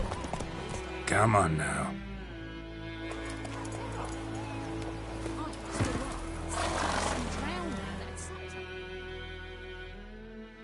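The horse Roach in a video game lets out a loud whinny, followed by steady clip-clop hoofbeats, while a voice speaks briefly over the scene.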